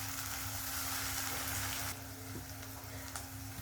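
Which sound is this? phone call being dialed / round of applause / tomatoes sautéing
tomatoes sautéing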